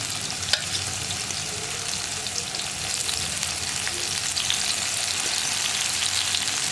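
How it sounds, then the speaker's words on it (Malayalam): Potato pieces frying in oil for potato masala, a dense continuous sizzle that stays loud and even with a few tiny pops. "അപ്പോൾ നമ്മുടെ ഉരുളക്കിഴങ്ങ് നമ്മൾ ഫ്രൈ ചെയ്യാനിട്ടിട്ട് ഒരു സൈഡ് ഫ്രൈ ആയി വന്നിട്ടുണ്ട്"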